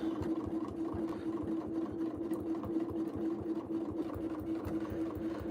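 A sewing machine runs continuously at an even speed during free motion quilting, with a steady rapid needle rhythm and motor hum throughout.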